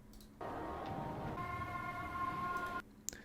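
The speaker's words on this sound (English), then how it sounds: "So the Seeker siren, it actually sounds a little bit more tinny than it does today." A tinny, electronic robot Seeker siren in a pre-alpha build of the video game Generation Zero wails steadily for a few seconds over a rumbling background, then stops abruptly.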